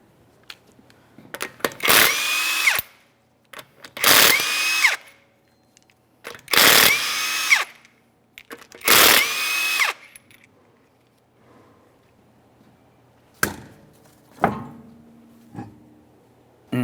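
Power tool spinning off locking lug nuts from a 2015-2019 Subaru Outback front wheel: four loud whirring bursts about a second each, close, followed by quieter clanks of parts being handled.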